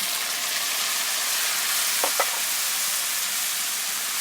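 Tomatoes dropped onto browned onions in a hot pan, giving a steady loud sizzle throughout with a brief burst of crackle and stirring partway through; no talking.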